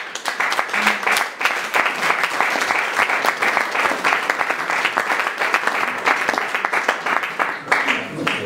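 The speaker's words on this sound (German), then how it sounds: "Applaus" Steady, dense applause from a crowd at a mayoral campaign speech, loud and continuous throughout with no pause.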